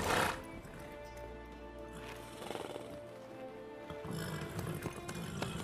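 A horse in The Witcher 3 snorts and whinnies near the start, followed by soft hoof clops over a game ambience with low music, and a faint voice murmuring underneath.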